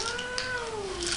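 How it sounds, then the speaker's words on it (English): A frightened, aggressive cat inside a pet carrier lets out one drawn-out, wavering meow, close and fairly loud against a hissy background. "She's very vocal at home too, just meowing and talking with her family."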